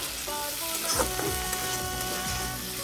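Potatoes frying in a pan on a gas stove, a steady close sizzle with occasional stirring clatter throughout.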